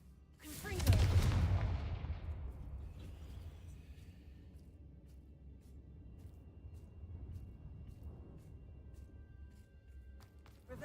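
A Confringo blasting spell in the Hogwarts Legacy video game goes off with one loud, booming explosion near the start, its low rumble trailing away into a quieter background.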